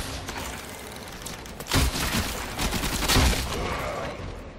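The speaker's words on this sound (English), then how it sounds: "Who's shooting at me now?" Sustained volleys of gunfire in the video game Warframe, steady crackling shots with two heavier bursts near the middle and end, no talk over them.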